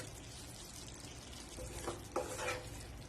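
Grilled paneer is mixed into a creamy Afghani-style gravy in a pan, giving soft scraping and stirring strokes over a faint low simmer, with a couple of brief louder scrapes near the end.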